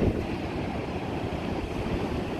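Steady windy rumble with broadband noise, continuous and moderately loud, no voices, like gusts buffeting outdoors.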